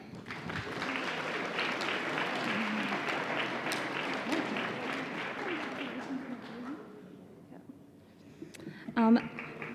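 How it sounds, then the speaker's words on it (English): An audience at a high school senior awards assembly claps steadily for several seconds, then the applause dies away into quiet room tone with a brief voice near the end. "Might have to clap once to get through all these."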